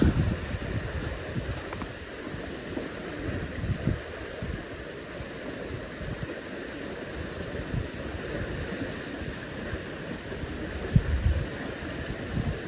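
Steady wind buffets the microphone outdoors beside high water while fishing, a low rumbling roar with occasional gusts and no voices.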